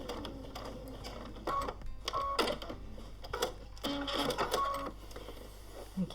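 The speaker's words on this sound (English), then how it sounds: "So I'm just going to continue sewing those wavy quilting lines." A sewing machine stitches wavy quilting lines through the layers of a quilt-as-you-go tiger applique piece, running in several close, rattling bursts with short pauses between them.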